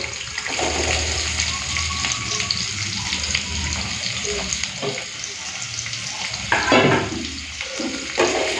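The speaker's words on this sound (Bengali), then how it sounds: "একটুখানি ভেজে নিই তারপরে বেগুন দেব" Diced potatoes frying in oil in a pan before brinjal is added, with a steady crackling sizzle throughout, broken by a few louder stirring scrapes near the end.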